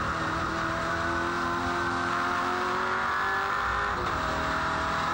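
V8 race car engine roaring at speed during a race, a loud sustained drone with rising harmonic whine as it accelerates, and a brief dip near the end.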